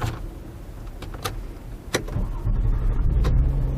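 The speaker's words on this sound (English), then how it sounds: "You can see that it starts the car up no problem." A Gen 2 Toyota Sienna starting with a newly programmed key: a few clicks and a brief crank, then the engine catching and settling into a steady close idle with no talking.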